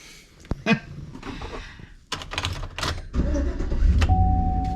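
A van's engine cranks and catches after a few clicks and mechanical clunks, then settles into a steady, close idle rumble with a faint whine.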